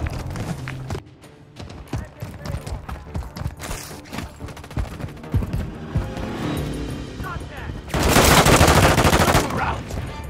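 Gunfire in the shooter game Call of Duty: Modern Warfare III, with sharp irregular shots scattered through a dense game mix, a louder sustained burst of fire near the end, and voices calling out over it.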